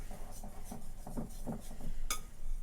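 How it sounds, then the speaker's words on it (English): A whisk beating ingredients in a bowl for kiwi muffins, giving a quick rhythmic series of soft scraping clinks, close and fairly quiet, ending with a sharper tap. "So we're going to whisk this all together"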